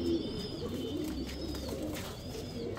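Racing pigeons coo softly from a loft, their low rolling calls faint against a steady background hiss, with a few thin chirps drifting in now and then.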